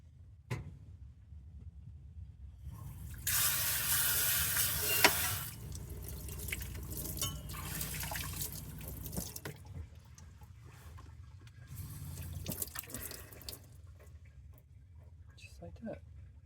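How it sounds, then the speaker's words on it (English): Tap water runs into a sink as a pot is washed with soap, a steady splashing stream that swells loudest for a couple of seconds, then continues in softer bursts and drips with clattering. "Let me go ahead and get some soap in there and then just use the water to clean it."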